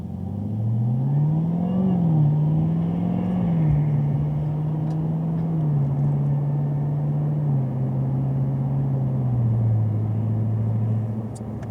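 A 2020 Chevrolet Camaro ZL1 1LE driving through Atlanta traffic, its engine a steady low rumble throughout with slight rises and dips in pitch, loud and continuous from inside the car with no talking.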